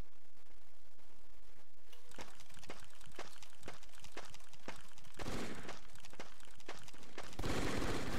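Gunfire in the video game Brick Force cracks out in a rapid series of sharp, evenly spaced shots, with denser bursts toward the end.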